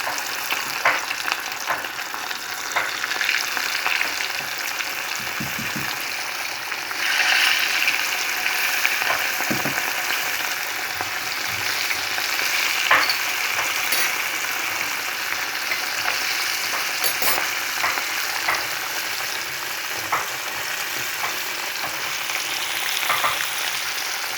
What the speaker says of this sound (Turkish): kızgın yağın içine atıyoruz